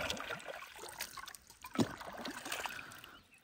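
Bamboo being rinsed in clean river water, soft close trickling and splashing with a brief louder slosh in the middle, fairly quiet.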